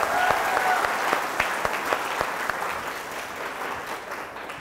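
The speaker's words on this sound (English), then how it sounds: "Let's all give him a big round of applause." Audience applause fills the room, a continuous spread of clapping with some sharper individual claps standing out, steady and fairly loud, gradually easing toward the end.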